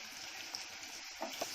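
Three medium onions frying in oil in a home kitchen pan, a steady soft sizzle with faint crackles and a couple of brief stir clicks.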